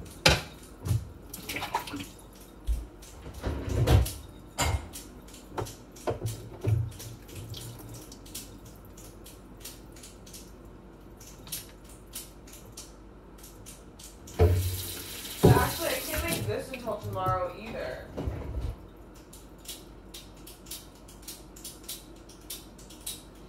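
Tap water runs into a kitchen sink during dishwashing, with intermittent splashes and clatter and a louder rushing burst of flow near the middle, under occasional quiet talk.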